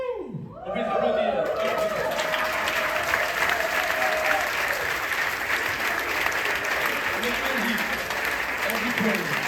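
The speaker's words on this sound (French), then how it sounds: "On peut s'applaudir." At a gospel choir concert in Cayenne, the audience breaks into loud sustained applause and cheering, opening with a voice and a held sung note before the crowd's clapping fills the space.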